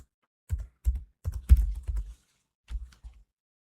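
Keys tapped on a computer keyboard while typing a search into a browser on Windows 11, several short bursts of clicks in a quick uneven rhythm with a pause before two final taps, close and clear.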